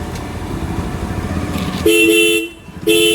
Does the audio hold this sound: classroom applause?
no